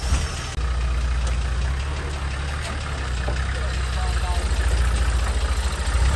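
A Nissan Patrol GQ 4WD engine idles steadily and close by, a low pulsing rumble with a faint knock that continues throughout, while people talk over it.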